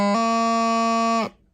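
Bagpipe strike sequence of B, low G, then low A on a Highland pipe chanter over the drone, a short bright sustained reedy tone with a quick grace-note flick at the start, played alone and close for just over a second.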